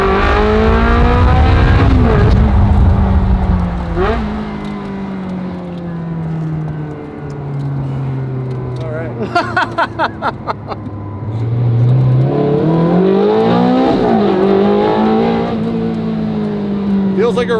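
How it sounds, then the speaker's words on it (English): A Ferrari V8 sports car engine drones loudly at first, settles to a lower rumble, then climbs again as it accelerates, its pitch rising and falling in sweeps, with brief talk inside the car. "It's got that Ferrari V8 sound."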